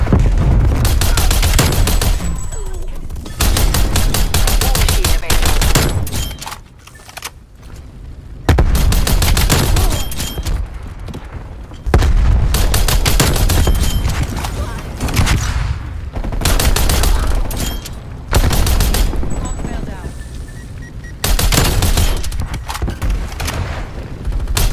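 DMR-14 rifle fire from Call of Duty Black Ops Cold War, loud bursts of rapid gunshots in repeated volleys separated by short pauses, with heavy booming impacts throughout.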